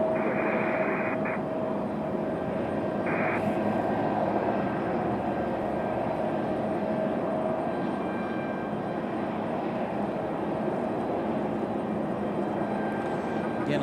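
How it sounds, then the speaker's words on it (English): A Delta CRJ regional jet taxis out at Raleigh-Durham, its engines giving a steady whining hum with a sustained tone, while brief beeping tones and quiet voices sit over the continuous rumble. "Delta CRJ making their way out as well."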